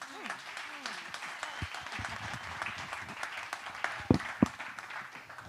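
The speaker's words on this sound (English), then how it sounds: "how about another round of applause for Katie and Cultivate Bend?" Audience at a community business talk applauding, a moderate patter of clapping with a few louder sharp claps near the end, while people talk over it.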